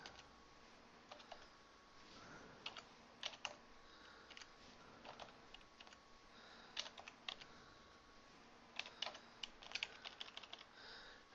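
Numbers are typed into a spreadsheet on a computer keyboard: quiet, close key taps come in irregular bursts and clusters against a faint background hum.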